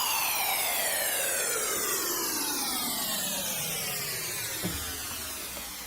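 A SynFeX synthesizer noise preset rings out alone, a bright hissing wash with sweeping flanger-like combing that glides steadily downward in pitch and stays loud throughout, without any talking.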